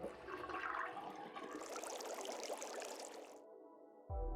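Water drains loudly from a sink in the video game Zero Time Dilemma, a steady gurgling rush lasting a few seconds before cutting off, followed by a short low thud.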